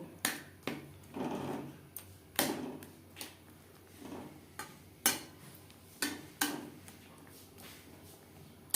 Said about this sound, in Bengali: টমেটোর সাথে চিনি বেশ ভালো করে মিক্সড করে দেব